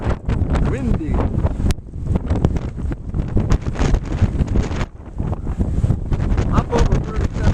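Strong mountain wind buffets the microphone on an outdoor deck in gusts above 37 miles an hour, a loud, continuous roar with surging, rumbling blasts that rise and fall throughout.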